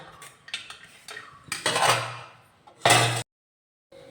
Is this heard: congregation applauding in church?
no